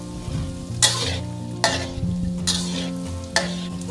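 Shrimp and tofu balls deep-frying slowly in oil on low heat, a constant bubbling sizzle punctuated by four sharp splashy bursts as they are stirred or turned.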